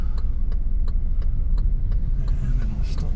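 Cars pass on a road in Papeete, Tahiti, with a steady engine rumble and tire noise close by and a rhythmic ticking throughout.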